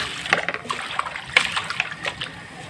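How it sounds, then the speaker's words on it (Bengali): Chicken meat is rinsed in a village kitchen: soft splashes and irregular trickling drips of water, close and fairly quiet, with small wet slaps as the pieces are handled. "এবার মাংসটাকে আমি সুন্দর করে ধুয়ে নেব।"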